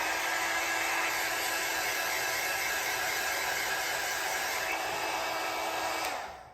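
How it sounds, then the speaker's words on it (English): Heat gun blowing hot air over a paper pumpkin stocking craft decorated with napkins, a steady loud whooshing roar held without a break, then dropping away as it switches off near the end. "for the sake of time, I'm going to use my heat gun"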